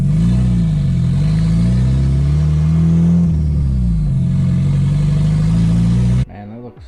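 A Nissan S13 engine revs loudly and close, its pitch rising and falling in repeated sweeps under steady load, then cuts off abruptly near the end, leaving quieter sounds.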